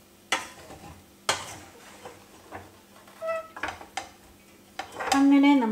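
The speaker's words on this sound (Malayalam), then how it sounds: "എന്നിട്ട് ഒന്നുകൂടെ ഒന്ന് മിക്സ് ചെയ്യാണ് കേട്ടോ." Ivy gourd stir fry being tossed and stirred in a pan, with scattered scraping and clinking knocks of a spoon against the cookware, a few light utensil taps, and a brief louder clatter near the end.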